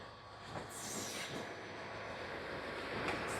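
A train rolls along the rails at a distance at Toba Tek Singh railway station, a soft continuous rumble with faint metallic squeals from the wheels.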